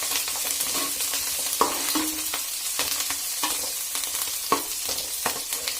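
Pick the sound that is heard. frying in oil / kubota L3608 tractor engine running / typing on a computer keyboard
frying in oil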